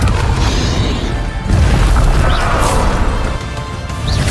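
A Confringo spell blast in Hogwarts Legacy sets off loud crashing explosions, a series of heavy booms and smashing impacts following one another at close range.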